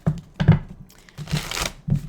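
Tarot cards are shuffled in a few quick, crisp bursts of riffling and crinkling, close up and separated by short pauses.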